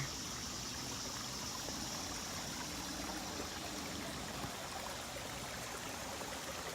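Steady rushing of a stream of water, a continuous broadband flow that stays even and fairly close throughout, with no voices.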